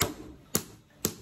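A stick strikes a drawing soaked in whisky three times, each a sharp, quiet tap about half a second apart.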